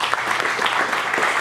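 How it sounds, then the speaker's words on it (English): Brief, loud, steady audience applause welcoming speaker Gurjeet Singh to a talk, a dense wash of many hands clapping together for just over a second. "Please join me in giving a big round of applause to our speaker"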